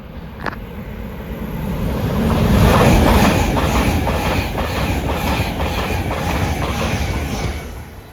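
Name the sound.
IET (Intercity Express Train) passing towards Paddington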